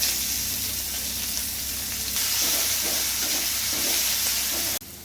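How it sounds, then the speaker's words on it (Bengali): Crushed ginger and garlic fry in hot oil with bay leaves and radhuni seeds for Bengali shukto. A loud, continuous close-up sizzle carries a few stirring scrapes and ends abruptly, with no one talking. "এখন রসুন আর আদাটাকে ভালো করে একটু ভেজে নিতে হবে, বেশি ভাজবো না, তাহলে তেতো হয়ে যাবে।"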